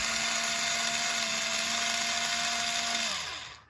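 A power screwdriver whirs steadily for about three seconds while backing screws out of a Stern Godzilla pinball machine, then winds down and stops.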